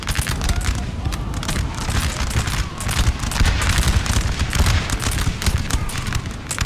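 Musket volleys from infantry units in a Napoleon Total War battle, a dense, continuous crackle of overlapping gunfire rolling on without pause, loud and close.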